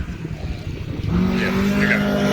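A rear-wheel-drive Datsun 1200 rally car on a gravel stage at Ben Nevis Station swells from a distant drone into a loud, sustained engine roar as it passes close by.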